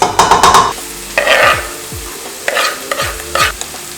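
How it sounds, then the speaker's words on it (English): Sauce for linguine and mozzarella meatballs in a pan, a loud close bubbling sizzle broken by several sharp clinks and scraping stirs, with brief bursts of hiss, no voices. "So I'm just gonna let it simmer a bit."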